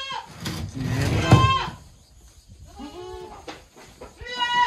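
Savanna goats bleat at feeding time with their ration supplement, several loud, close wavering calls that overlap, then a quieter pause before more bleats rise at the end.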